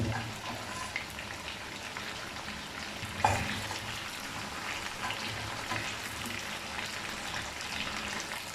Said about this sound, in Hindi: अब इसको अच्छे तरीके से एक साइड से गोल्डन होने तक पकाएंगे।